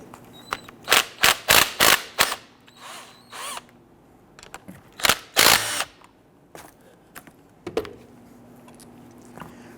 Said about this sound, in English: We're going to go ahead and remove our two slider pins here using a 14mm socket.